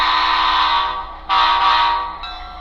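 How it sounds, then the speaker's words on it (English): A model locomotive's horn sounds through a SoundTraxx sound decoder speaker fitted with a baffle, a sustained two-part blast that breaks briefly and resumes loud, close and steady with a bell faintly ringing beneath. "Now again, I'm going to blow my horn and ring the bell."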